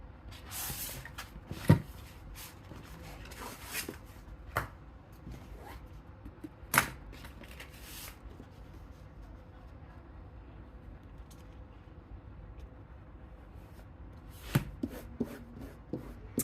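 Scissors cutting clear vinyl fabric for a trick-or-treat sewing project, heard as sporadic crisp snips and rustles separated by quiet pauses.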